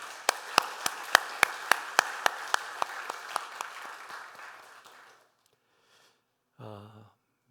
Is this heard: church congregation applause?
yes